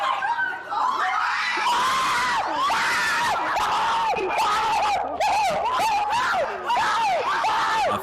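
A female fan screams wildly with excitement at close range on meeting a celebrity streamer in a New York elevator, repeated shrieks and squeals overlapping with other voices, loud and continuous.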